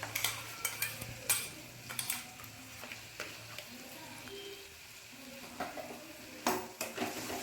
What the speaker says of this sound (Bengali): এবার পালং শাকটাকে মশলার সাথে খুব ভালো করে মিশিয়ে নিচ্ছি।